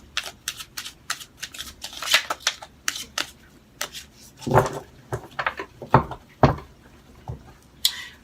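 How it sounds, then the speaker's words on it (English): Tarot cards are shuffled by hand in repeated riffling bursts, crisp and close, with short pauses between the rounds and no talking. "I'm going to shuffle 3 more times."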